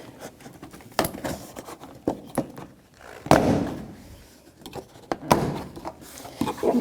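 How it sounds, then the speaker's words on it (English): A plastic trim tool pries door panel retaining pins loose on a 2006-12 Toyota RAV4, giving several sharp, close pops and thunks at irregular intervals with scraping and handling noise between them. "Now with the trim tool, I'm going to start to unpop the door panel"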